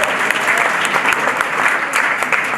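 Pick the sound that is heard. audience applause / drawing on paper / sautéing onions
audience applause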